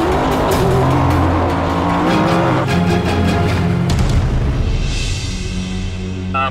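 Ford F-150 EcoBoost truck racing flat out in the Baja desert, its loud engine roaring steadily up close with tire noise and a brief hiss of spray or gravel near the end.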